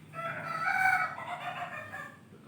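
A rooster crows once in a single drawn-out cock-a-doodle-doo, heard at moderate distance and fairly faint over a low steady background.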